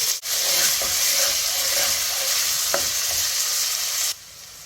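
Chopped carrots, celery stalks and onion sizzle steadily in a pot, with a few faint stirring knocks, then the hiss drops away near the end.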